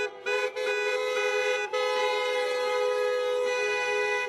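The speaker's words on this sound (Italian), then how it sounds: "partono i caroselli di auto, sventolano le bandiere e suonano i clacson per le strade" Car horns blare through the streets during a celebration of Treviso basketball's promotion to Serie A, long sustained honks that overlap in a dense, loud chorus with a few brief breaks.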